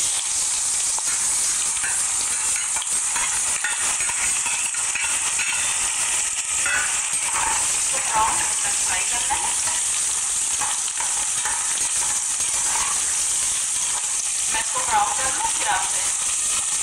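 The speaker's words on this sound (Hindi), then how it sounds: "इसको पहले फ्राई करेंगे।" Thinly sliced onions fry in refined oil in a pressure cooker for mutton pulao, giving a loud, dense, continuous sizzle close up with occasional stirring and no talk.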